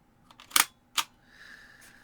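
Double click of a camera shutter firing, two sharp close clicks about half a second apart, followed by a faint whirring tone.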